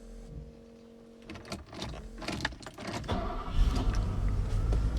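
A 1990 Mercedes S-Class W126 is started from cold: a faint electrical hum and clicks, then a brief cranking burst and the engine catching, settling into a louder low idle rumble, with no talking.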